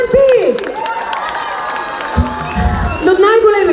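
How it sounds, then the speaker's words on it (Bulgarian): A crowd at an outdoor town holiday celebration in Sandanski cheers and applauds Mayor Atanas Stoyanov. Whoops and shouts rise over scattered clapping, and a voice carries through the noise. "Господин кмета, моля вашите аплодисменти за него"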